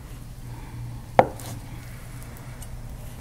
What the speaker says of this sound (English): I'm going to cut this in little chunks